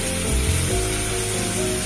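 Broccoli and spice paste sizzle loudly in a pan, a dense, close, continuous hiss with a faint low rumble underneath and no voices.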